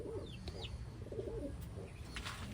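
Pigeons, Taiwanese racing birds kept in a loft alongside a hen, coo softly in low repeated murmurs amid faint chirps and background noise, with a few quick flutters.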